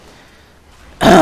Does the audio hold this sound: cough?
yes